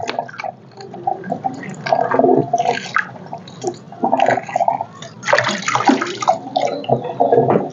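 Pork bone and radish soup boiling in a pot, with loud, close, irregular bubbling and splashing in uneven bursts and no speech.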